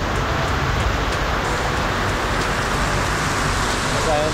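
Heavy rain pours steadily and loudly across the whole stretch, a dense even hiss without pause, as if heard from under a shelter during a motorcycle ride in a downpour.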